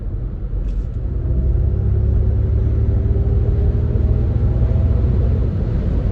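A 2022 Ford Mustang Mach-E Premium electric car driving, with a steady, loud low rumble and faint tonal whine held throughout.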